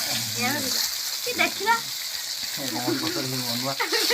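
Fish frying in a pan, a steady hiss and sizzle of hot oil running throughout while someone talks over it.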